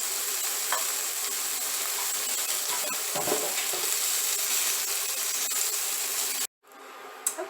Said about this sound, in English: now I'm heating up some canola oil so I can fry the peppers into